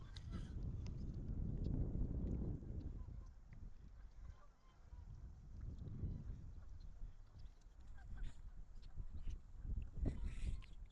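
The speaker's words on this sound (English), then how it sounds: "You can hear the wind." Wind blows outdoors in a park, heard as soft low rumbling gusts that swell and fade in waves against the microphone, with faint background sounds between them.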